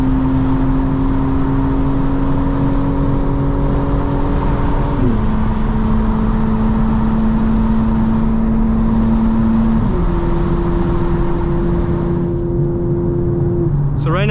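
Tuned 2025 BMW M4 Competition xDrive accelerating hard with its exhaust valves open, loud and close, the engine note climbing steadily through each gear with distinct drops at the upshifts and a brief blip at the end.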